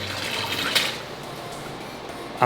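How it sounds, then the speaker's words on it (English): Water pours continuously into plastic tubs being filled for a reef aquarium, a steady close rushing and gurgling with a brief louder splash at the very end. "I'm just filling this, kind of filling these 2 tubs up"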